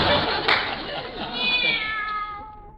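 A cat meows loudly and drawn-out in a radio drama scene set around a Christmas tree, a single wavering cry that rises and then slowly trails off under a voice.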